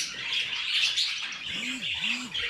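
Pet birds, including Japanese and painted finches in a breeding cage, chirp steadily and high-pitched throughout, with a low soft coo-like call rising twice near the end.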